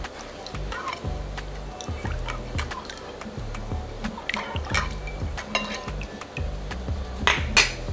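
Shrimp cocktail being stirred with lime juice in a bowl, wet squelching and clinking spoon taps in an irregular rhythm, close and moderately loud, with a few sharper knocks toward the end.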